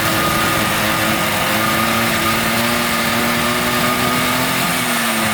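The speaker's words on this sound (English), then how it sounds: "When the scooter is running, check the exhaust port of our engine." A DY49QT-28 scooter engine runs steadily at close range, a loud continuous buzzing drone with no change in pitch, heard alone.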